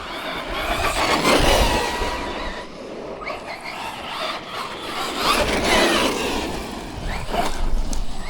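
An FMS FMT-10 RC car runs on a 4S battery, giving a continuous buzzing, whirring drive noise that swells and eases over several seconds at close range, with no talking.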